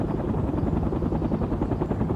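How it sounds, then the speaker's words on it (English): Mi-24 attack helicopter in the World in Conflict video game flying in, a steady, loud rotor beat and engine roar held throughout with no pause. "Heavy attack helicopter is inbound."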